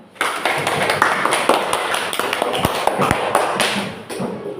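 Classroom applause after a student presentation: a dense, continuous patter of many hands clapping close by, holding steady for several seconds before easing off.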